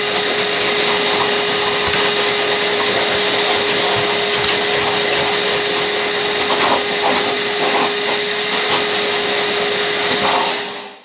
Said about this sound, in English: First they were vacuumed to remove the loose debris.